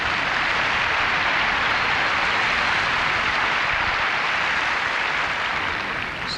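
A large crowd on Wimbledon centre court applauds during a 1991 women's match, with dense, sustained clapping that stays loud and even throughout and dips only slightly at the very end.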